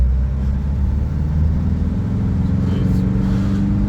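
A Nissan Navara D40 with 226,000 km and a carbon-clogged intake revs hard at full throttle, a loud, steady, close engine roar with a deep rumble held throughout.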